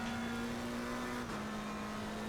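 A race car in a Nurburgring racing video game accelerates to full throttle, its steady engine drone holding loud and constant throughout, with a brief dip in pitch partway through as a gear shift occurs, no talk present.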